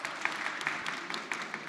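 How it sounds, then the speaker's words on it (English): Audience applause at a London pitch-and-invest engineering and manufacturing event, steady dense clapping throughout with sharper individual claps on top, no talking. "Big round of applause."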